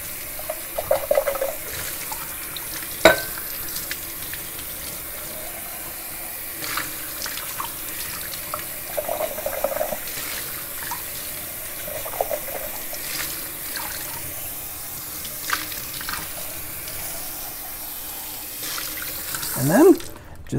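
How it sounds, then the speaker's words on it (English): Cold tap water runs into a sink as a beer glass is rinsed, a steady hiss with splashing shifts, a clear clink near the start and a louder gurgle at the end. "rinse it out with cold water"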